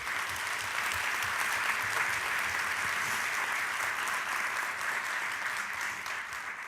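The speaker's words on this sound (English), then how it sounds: "So let's give them a big round of applause." An audience at a Chicago education summit applauds event sponsors with dense, steady clapping that holds loud throughout and eases slightly at the end.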